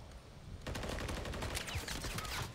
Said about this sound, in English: I'm shooting at him as well.